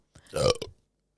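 A single loud, close burp from a podcast host, lasting about half a second and heard alone against silence.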